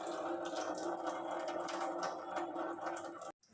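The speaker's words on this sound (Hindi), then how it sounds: "चने की दाल भिगोई थी, तो उससे पानी निकालूंगी थोड़ा सा" Water is poured off a batch of soaked chana dal in a home kitchen, a soft continuous trickle and splash that is fairly faint and close, then stops abruptly.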